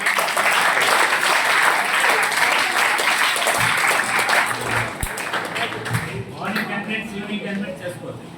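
A school meditation class gives a big round of applause, dense clapping from many hands filling the room for several seconds before thinning out, with voices rising underneath toward the end.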